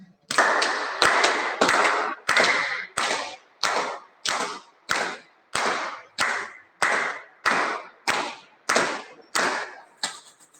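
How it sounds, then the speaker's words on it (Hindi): A group of people at a yoga session clap their hands about fifteen times in a steady, even rhythm, each clap loud and sharp and close, with no talking over them. "तो बजा लेते हैं ताली 15 बार"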